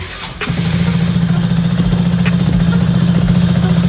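Small pocket bike engine cranking and catching after a brief click, then settling into a loud, steady, close idle with a buzzy low drone.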